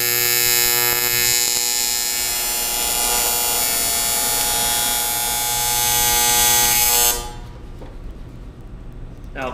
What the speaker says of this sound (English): So I'm gonna set this up, throw down a couple of tacks here and get this all welded up.